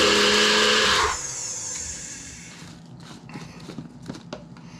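Black pepper being coarsely ground for Montreal smoked meat spice: about a second of loud, harsh grinding that cuts off, followed by quieter scraping and light knocks.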